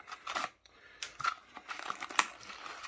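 Beyblade X Steel Samurai packaging is torn open up close, giving a string of sharp crinkling, ripping bursts of plastic and card with short pauses between them and no talking.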